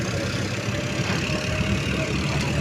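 A tractor engine rumbles steadily during a ride on a road near Bengaluru, a constant low, close drone with no pauses.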